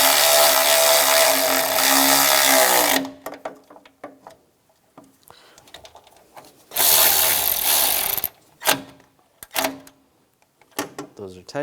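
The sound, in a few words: tightening bolts on a Toyota Prius AC condenser bracket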